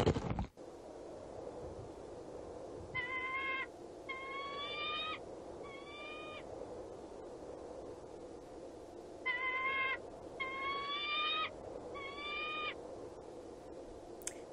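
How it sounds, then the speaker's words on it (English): Bird calls from the video game Anachronox, two sets of three harmonic, hooting cries with brief pauses between them, heard twice over a steady ambient hum. "It's always the same bird they use for the sound effects, isn't it?"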